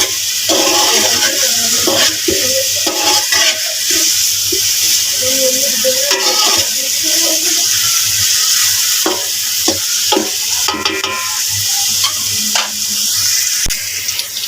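Capsicum (bell pepper) sizzles steadily in a hot pan for a macaroni dish, with a continuous loud fry punctuated by scraping stirs and clinks throughout.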